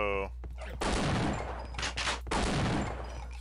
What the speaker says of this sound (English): So alternate fire is just regular fire on this gun, it would appear. Unless I'm actually shooting twice. I am shooting twice.